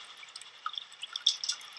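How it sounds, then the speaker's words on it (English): Water and light loose dirt tipped off a gold pan and running into a bowl, heard as a faint, close trickle of small drips and splashes that rises slightly toward the end, with no talking. "We want to tip the pan forward and let the water and the light loose dirt run off into the bowl."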